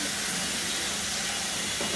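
Green mango pieces fry with chilli powder and spices over a medium flame, giving a steady, even hiss of sizzling with no pauses.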